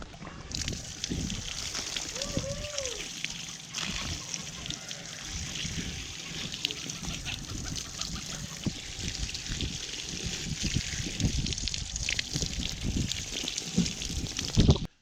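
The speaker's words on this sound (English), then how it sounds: "Let's get some water here at the hydrant." Water pours from an outdoor hydrant on an off-grid property, a continuous splashing and trickling rush close by, with some handling noise and a brief voice near the start.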